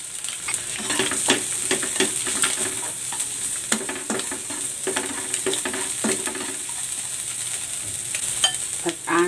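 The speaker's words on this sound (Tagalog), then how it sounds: "Gisa ko na tong luya." Chopped ginger sautéed in a frying pan as the base for cabbage and tofu soup, giving a steady close sizzle broken by repeated scraping stir strokes, with no talking.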